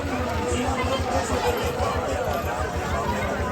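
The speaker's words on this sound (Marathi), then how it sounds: "गर्दी आहे" Dense crowd chatter and babble at a busy Maharashtrian village jatra (fair) near a temple, a steady wash of many voices close around with no single clear speaker.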